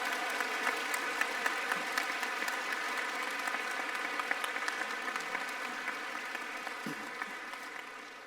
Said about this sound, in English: One more round of applause for that amazing performance.